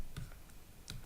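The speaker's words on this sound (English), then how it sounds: "That's typing into Excel." A few faint, scattered keyboard key taps, irregularly spaced clicks in a quiet room.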